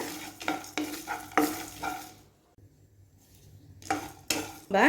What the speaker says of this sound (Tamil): கசகசா ஆட் பண்ணிக்கிறேன். ஒரு 2 நிமிஷம் மீடியம் ஃப்ளேம்லேயே வச்சு வறுத்து எடுத்துக்குவோம்.